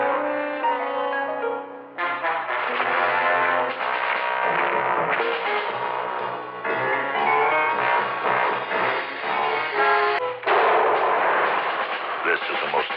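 A Mattel Zero-M Sonic Blaster toy gun fires in a TV commercial with loud, continuous, warbling electronic blasts that shift pitch in bursts, recorded close.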